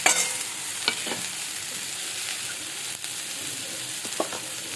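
Pumpkin and okra fry in a pan with a constant close sizzle, punctuated by a handful of light spatula clicks and scrapes as the vegetables are stirred.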